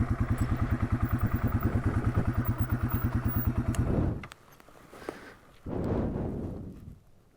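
A Yamaha TW200 off-road motorcycle engine thumps in a steady, rapid single-cylinder rhythm close by, then cuts out, leaving quieter sandy ground noise and a brief rustle.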